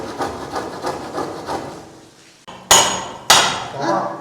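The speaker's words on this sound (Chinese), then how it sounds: "然后用锤子把它敲打出来。" A few seconds of rhythmic sawing on wood, then two sharp, loud hammer blows close by knocking out a nailed door frame, each ringing out briefly.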